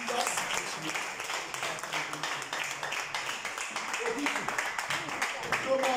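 A church congregation claps for Jesus, a dense, steady patter of many hands that fills the whole stretch, mixed with voices talking and calling out.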